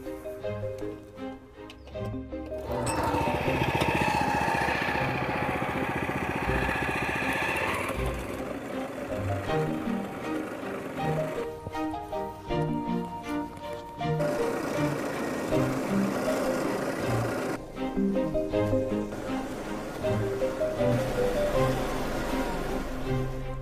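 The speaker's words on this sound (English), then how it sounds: "remove your existing lawn using a turf cutter" Motorized turf cutter stripping an existing lawn, its engine droning loudly and steadily with rattling, clattering mechanical noise that shifts in intensity as it works across the grass.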